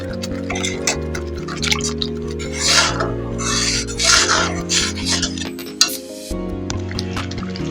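A mixer grinder churns peanuts with water, giving a steady close rasping whir with gritty scraping texture, shifting in pitch as the blades work through the mix, and a brief knock near the end.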